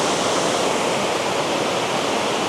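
A waterfall roars in a dense, unbroken wash of rushing water, loud and constant throughout.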